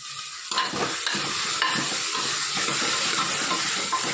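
Spices such as turmeric, coriander-cumin powder, red chilli and garam masala stirred in a frying pan for muda dhokli, a steady sizzle with a soft scraping stir that begins after a brief quiet start, close and alone.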